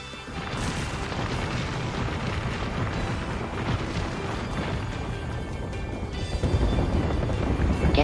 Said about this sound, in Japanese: では爆撃シーンになります。